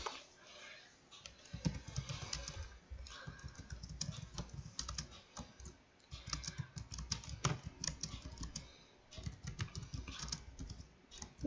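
Steady typing on a computer keyboard, close and fairly quiet, with bursts of rapid key clicks separated by brief pauses throughout.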